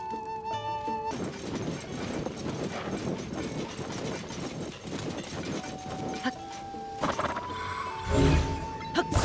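Horse hooves clip-clopping in Zelda: Tears of the Kingdom: a run of rhythmic hoofbeats, fairly close, over background music, ending with a couple of louder knocks.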